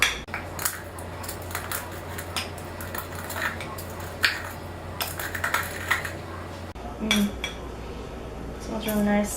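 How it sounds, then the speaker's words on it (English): Whole cardamom pods and cloves crushed in a pestle and mortar, giving a series of sharp, close clicking and grinding knocks in irregular bursts over a low steady hum. "Just gonna grind this up, pestle and mortar style."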